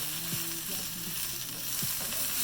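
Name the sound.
bacon frying and being stirred in a pan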